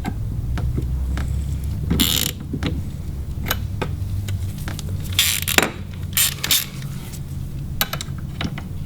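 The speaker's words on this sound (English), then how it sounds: "tightening the end caps on. I just want them threaded on all the way." End caps being tightened on a SeaStar marine steering cylinder: close, dry creaks and small mechanical clicks and scrapes, irregular and sparse, over a low steady hum, with no talking.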